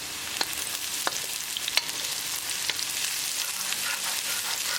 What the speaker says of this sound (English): Cook green chili along with tadka for half minute.